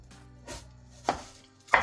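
A knife chops red onion on a cutting board in a home kitchen, with three separate, crisp, close thuds spaced about half a second apart and no voices.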